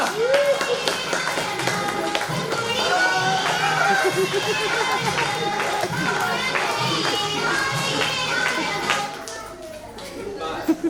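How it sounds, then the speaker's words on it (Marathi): A crowd at a baby shower claps in scattered, lively rhythmic bursts for about eleven seconds, with chatter and babble throughout, then thins near the end. "टाळ्या टाळ्या टाळ्या"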